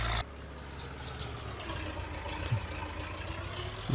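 Tractor engine in Farming Simulator 22 hums at a steady low idle, close and continuous, with a few small bumps and clunks.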